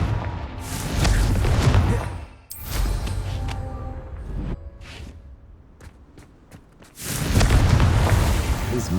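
Confringo blasting spell in the Hogwarts Legacy video game: loud, dense booming blasts with rumbling low end, a brief dip between bursts, scattered impacts in the middle, then another heavy explosive roar, all close and prominent.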